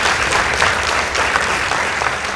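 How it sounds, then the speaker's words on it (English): Steady, loud applause from a large audience at a high school competition results announcement, with dense clapping that continues evenly throughout without pause. "Please give them a round of applause."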